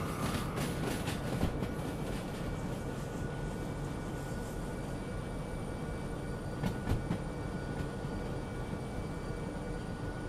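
A locomotive rolls along rails in the train simulator game Derail Valley, giving a steady rumbling drone with metallic wheel clicks and a couple of sharper clanks near the end, with no voices.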